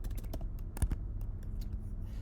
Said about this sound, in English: I'm trying to type today and I just can't.